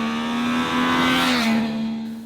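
Triumph Trident 660 motorcycle engine, a 2021 three-cylinder roadster, revving loud and close with a steady rising then falling drone, alone without speech.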